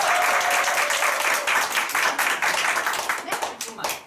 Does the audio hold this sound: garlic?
no